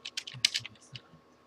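Quick, light keystrokes on a computer keyboard, a short irregular flurry of close clicks that trails off, with no voices.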